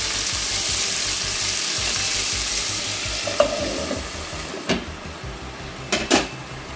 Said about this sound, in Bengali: একসঙ্গে ভাজা ভাজা করবো এবার তার জন্য একটু নেড়ে দিচ্ছি